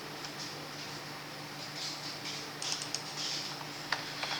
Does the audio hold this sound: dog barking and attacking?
no